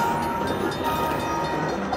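Rumbling train effect from a Luxury Line slot machine game, a steady dense mechanical roar with a faint tonal hum, loud and continuous throughout with no pauses.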